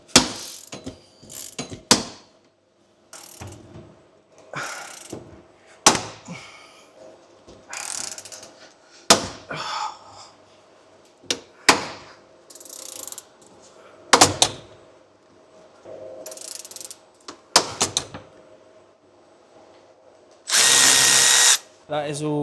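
A ratchet tool is cranked to punch holes through a copper busbar for a 3000A installation, giving repeated bursts of rapid clicking separated by pauses, with a longer, harsher grinding burst near the end.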